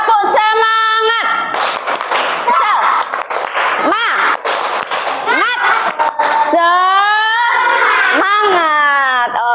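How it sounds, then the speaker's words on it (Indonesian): A primary school class in Indonesia performs a rhythmic spirit clap chant, with loud, close children's voices chanting and shouting in bursts over scattered claps throughout. "Mana tepuk semangatnya?"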